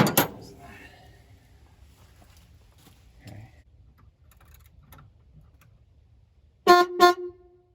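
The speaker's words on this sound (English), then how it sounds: "No way, the horn works." After a stretch of near quiet with faint clicks, the horn of a 1971 Dodge Charger Super Bee sounds two short, loud, close blasts in quick succession.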